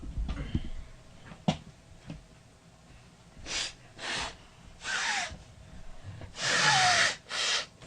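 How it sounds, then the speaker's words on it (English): A person with bad sinus trouble blows their nose in several close, breathy bursts, the last one longer and wetter, after a few sniffs and small clicks. "I have to blow my nose."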